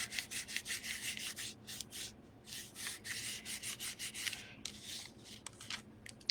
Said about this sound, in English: all I'm going to do is place this down and just give it a good rub on the back.